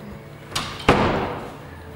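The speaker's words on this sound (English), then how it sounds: "You have to close both doors." Metal doors slide and shut, a light knock followed by a heavier thud that rumbles briefly, close by.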